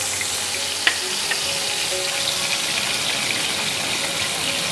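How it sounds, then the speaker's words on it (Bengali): Fish frying in oil gives a steady, close sizzle throughout, broken by a couple of small crackling pops. "মাছটা যতক্ষণ আমার ভাজা হচ্ছে"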